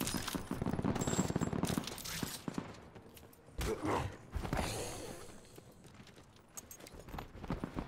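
Bursts of rapid gunfire crackle through a busy Call of Duty: Black Ops 4 game soundscape, with dense rattling volleys early on and scattered shots and clatter afterward.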